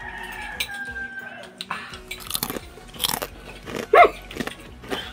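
Crunchy bites and chewing on a cooked giant fish head, caught by spearfishing in Banton, Romblon, come as several crisp crackles and clinks between scattered voices nearby.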